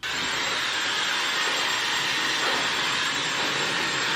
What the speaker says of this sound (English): blow dry your hair upside down. I just blast dry it